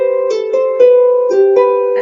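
A harp plays a seesaw pattern from the folk tune The Keel Row, alternating plucked notes in an even, moderate rhythm, clear and close with ringing sustain and no voices.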